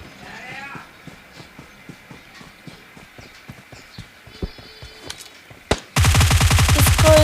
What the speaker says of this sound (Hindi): फायरिंग की साउंड आ रहा था।